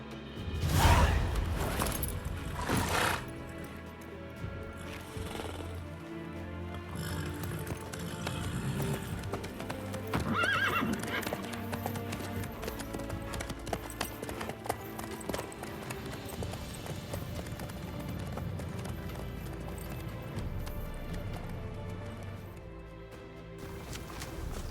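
Horse hooves clip-clop at a steady trot in The Witcher 3 video game, continuing under ambient game sound and music throughout, with occasional louder thuds.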